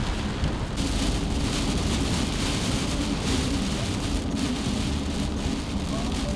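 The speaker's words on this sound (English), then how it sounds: "We've been driving through pretty much nonstop pouring rain for the last 7 hours" Heavy pouring rain drums steadily on a moving van during a thunderstorm at night in Louisiana, with low rumbling thunder beneath; a continuous, loud, unbroken wash with no voices.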